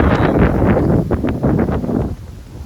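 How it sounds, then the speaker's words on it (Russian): Strong wind buffets the microphone in loud, roaring gusts in a damaged city street in Kupiansk, rumbling and rustling throughout before easing slightly at the end. "К сожалению, сильный ветер."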